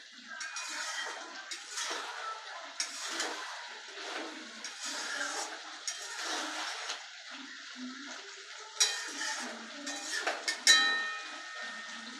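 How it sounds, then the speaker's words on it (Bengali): Okra and potato curry being stirred in a pot, with scraping clatter of a spoon against metal and wet squelching, steady and fairly close, with no talk. "খুলে এটা আবার ভালোভাবে আমরা নেড়ে দেব একসাথে সব।"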